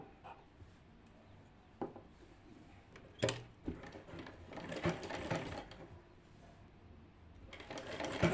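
A sewing machine stitches a churidar sleeve in short bursts of rapid mechanical whirring, quiet between runs and louder toward the middle and end, with no speech.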